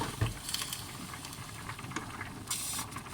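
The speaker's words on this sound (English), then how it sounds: "the rice has now been cooking for about 15 minutes" A pot of rice boiling for breyani gives a faint, steady bubbling patter with soft hiss and occasional small pops, close by and quiet, with no voices over it.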